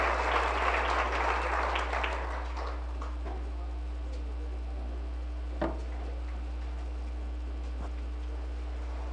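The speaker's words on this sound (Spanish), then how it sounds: "Dele un aplauso a Jesús" Applause from a church congregation, loudest in the opening two seconds and then thinning into a faint, steady room hum with a single soft knock.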